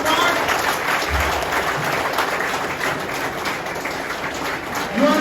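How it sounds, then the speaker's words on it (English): Workshop audience of professors in India clapping together, a dense, steady applause that carries throughout at close range, with a brief low thump near the start. "I want you to clap for yourself"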